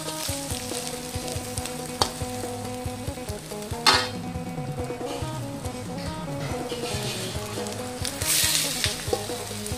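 Wai Wai noodles and egg stir-frying in a pan: a steady, close sizzle with scraping stirs throughout, plus a few sharp clacks of utensil against the pan, over faint background music.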